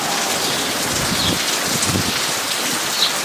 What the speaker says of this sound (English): It's raining like a dickens around here.